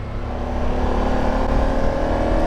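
A Ducati Monster motorcycle passes by on the road, its engine a loud, steady whirring roar that stays strong through the short moment with no speech.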